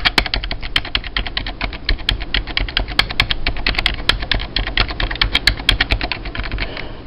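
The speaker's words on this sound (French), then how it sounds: "puis il fait pas beaucoup de bruit le clavier" Steady rapid typing on a Power Macintosh 6500/275 computer keyboard, a quiet late-1990s Apple keyboard, with dense even keystroke clicks running throughout, close and alone without any voices.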